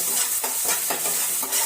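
Food fries in a pan with a steady, bright sizzle, while a spoon stirs it in several rhythmic scraping strokes, close and fairly loud.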